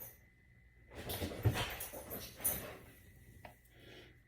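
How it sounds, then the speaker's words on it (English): A dog in a home kitchen whimpers and snuffles softly, giving a few faint, breathy bursts close by over an otherwise quiet room. "don't mind my dog"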